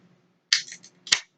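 A 16-ounce can of Turning Point Re-Up DIPA beer cracked open: a crisp metallic pop with a short hiss, then a second sharp snap-and-fizz, close and clear in a quiet room.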